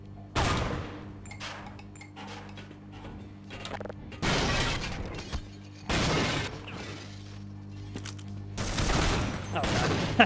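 Grenade launcher fire in a Half-Life mod, heard as several loud broadband blasts spaced a few seconds apart, each with a short ringing decay over a steady low ambient hum.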